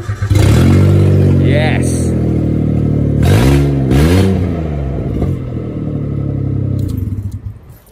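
A small hatchback's little three-cylinder engine, exhaust decatted, cranks and catches, then idles loud and rough with blipping revs and clattery tone close by; a voice briefly speaks.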